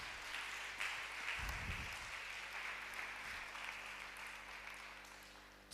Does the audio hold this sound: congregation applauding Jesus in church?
yes